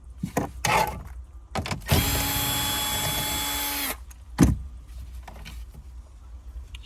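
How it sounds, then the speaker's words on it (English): A powered tool spins out 7mm bolts with a socket from the radio of a 2013–2016 Chevrolet Trax: a steady, loud two-second whir, framed by short clicks and knocks of handling close by. "7mm socket to remove them, because these are 7mm bolts."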